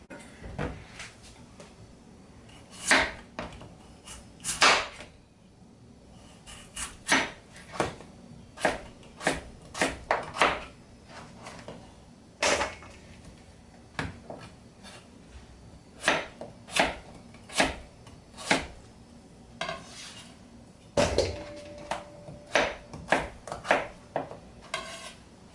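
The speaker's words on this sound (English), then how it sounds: "We're going to put it in a bowl and mix it all together." Spices mixed together in a bowl for fried chicken drumsticks: a series of sharp, close taps and clinks, sometimes in quick clusters with gaps between, and no talking.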